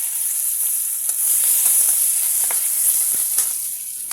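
Fenugreek, cumin and chili sizzling in hot oil for a Bengali banana-flower curry, a steady close frying hiss with small crackling pops throughout, no talking.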